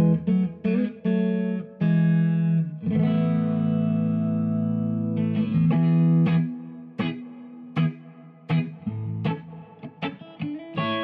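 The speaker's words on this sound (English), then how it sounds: "Just a little reverb on there." An electric guitar plays plucked notes and sustained chords with a light reverb tail, some notes ringing out, others cut short.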